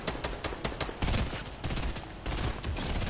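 Rapid gunfire bursts in the video game Fortnite, several dense volleys of shots in quick succession, moderately loud, with no voices.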